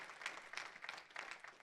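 A church audience applauds, heard faintly and at a distance as scattered, uneven clapping that rises and falls in quick bursts.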